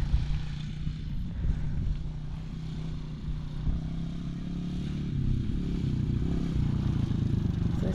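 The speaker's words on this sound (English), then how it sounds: "I'll try to get a little bit closer when he rounds this corner so maybe you can see it when he comes through." Small four-wheeler ATV engine droning steadily through a backyard field, a loud low rumble that holds fairly constant as the vehicle rounds a corner and passes nearby, with no talking.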